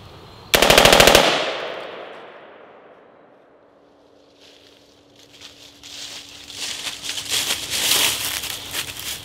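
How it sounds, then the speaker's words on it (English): A prototype firearm fires a long full-auto burst, very loud and close, lasting under a second. A decaying echo follows, and then scattered clatter and rustling noises build up near the end. "Alright, test number two, full auto fire."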